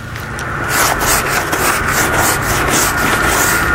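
Close, steady rubbing and scrubbing of skin worked with a salt lather during a bath, a continuous coarse friction sound with rhythmic strokes, loud and without talk.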